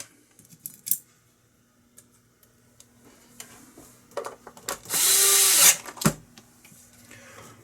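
Small metallic clicks and taps from hand tools while screws go back into a PC keyboard, then a loud burst of a power screwdriver whirring for about a second, followed by a final clack.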